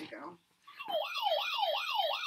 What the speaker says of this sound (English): Which is the siren thing?